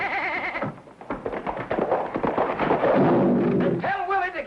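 A goat bleats in a 1950s television comedy scene, with wavering cries at the start and again at the end around loud, crowded voices talking over it.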